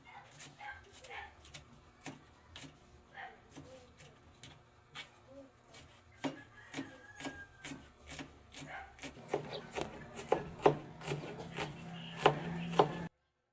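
A knife crushing and chopping an ingredient on a board while grilled milkfish is being prepared: sharp, close strikes in a steady rhythm that grow louder and quicker toward the end.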